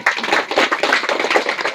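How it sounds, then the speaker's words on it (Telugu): Loud applause from a crowd fills the space with dense, continuous clapping at close range, steady and unbroken throughout. "గట్టిగా చప్పట్లు"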